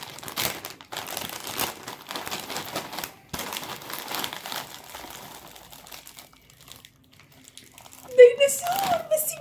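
A plastic bag handled up close, giving bursts of crinkling and rustling across most of the stretch, then a short pause. A voice speaks briefly near the end.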